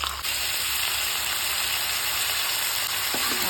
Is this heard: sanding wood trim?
no